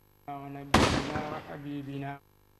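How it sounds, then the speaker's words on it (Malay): A ceremonial cannon fires once at a royal wedding in Brunei, a single heavy boom whose rumble decays over about a second, cutting into sustained chanting or singing voices. "Detik yang penuh simbolik ini diiringi dengan tembakan meriam sebanyak 17 das."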